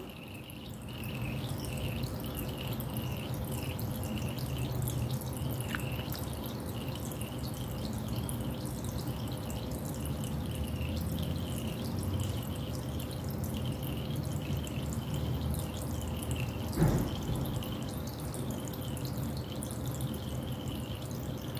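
Water dripping and trickling steadily from an emptying burette in a physics demonstration, a quiet continuous flow with one sharper splash partway through and no talk.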